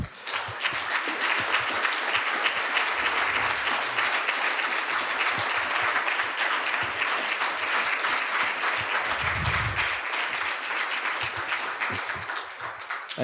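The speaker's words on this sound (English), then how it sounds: "let's give them a big round of applause" An audience at a workshop applauds in a long, dense wash of clapping that stays steady and loud for over ten seconds, with a few faint voices underneath.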